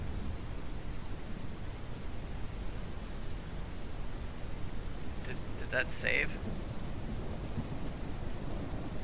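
Steady rain hisses evenly across a Ranch Simulator farm, a constant soft wash throughout, with a brief chime-like game sound and a voice speaking over it.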